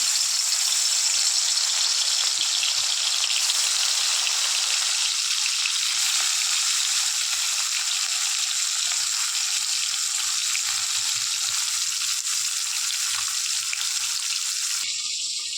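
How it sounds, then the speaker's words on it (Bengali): Loud, continuous sizzling and crackling of fish frying in hot oil, a steady bright hiss throughout with no talking. "তেলটা গরম হয়ে গেছে, মাছটা দিয়ে দেবো।"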